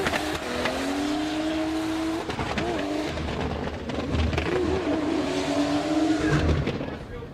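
A Subaru BRZ drift car at a French drift event runs with anti-lag turned fully up, its engine droning loudly and steadily throughout with rising and falling pitch, popping bursts and faint tire squeal, with no talk over it.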